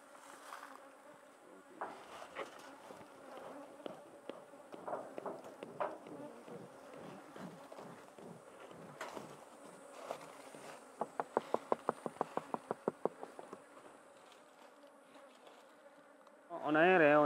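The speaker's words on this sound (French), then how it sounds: "On enfume la ruche. On enfume les abeilles d'abord." Honeybees buzz around a hive being smoked. A low, droning hum runs under scattered knocks and a quick run of clicks, and a louder buzzing swell comes at the very end.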